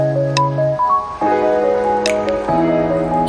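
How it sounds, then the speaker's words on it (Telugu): Water is poured into a glass in short bursts, a close gurgling trickle whose pitch shifts as the glass fills. "ఇప్పుడు ఒక గ్లాస్లో వాటర్"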